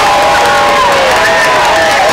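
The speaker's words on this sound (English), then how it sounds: "Wayne County's got a great crowd of fans over here tonight, and they're cheering their War Eagle fans on." A large crowd of Wayne County War Eagles fans cheers at a night high school football playoff game against Brookhaven, a loud, steady roar with shouts and whistling tones running throughout.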